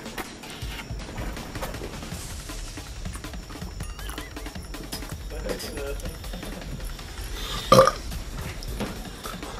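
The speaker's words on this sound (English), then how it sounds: "if you really feel like you need to belch and you can't, drink some liquid and just shake your stomach" A person lets out a single loud belch after drinking milk, a brief guttural burst rising above ongoing talk and background clatter.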